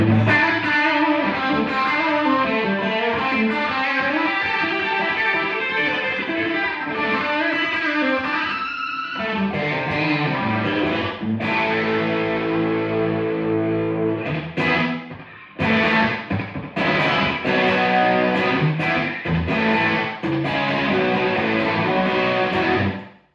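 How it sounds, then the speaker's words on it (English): Electric guitar played through a Boss RE-2 Space Echo pedal emulating a classic tape echo preamp, sustained chords and melodic lines with echoing repeats and slight grit, continuous and loud with a short break midway. "that magic that's coming from its emulation of that preamp sound that you get from plugging into a classic tape echo"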